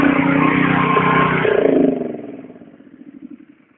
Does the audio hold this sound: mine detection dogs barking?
no